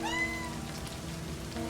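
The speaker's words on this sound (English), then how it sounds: "Meow meow." A cat meows once in a psychological horror visual novel game, a clear near mew falling in pitch over a soft bed of game rain.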